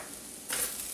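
Flour is stirred into cooking vegetables with butter in a pot for clam chowder, giving a soft, steady scraping sizzle that grows a little louder halfway through the short moment.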